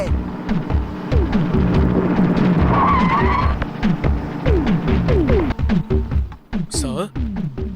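A car driven fast skids and slides, its engine rising and falling in repeated revving sweeps with tire noise, loud and close, while voices speak over it.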